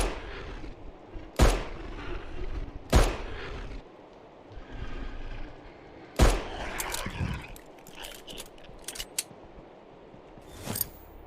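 Pistol shots fired in the horror video game Fobia: St. Dinfna Hotel, four sharp loud reports spaced a couple of seconds apart, with faint clatter and ambient noise between them.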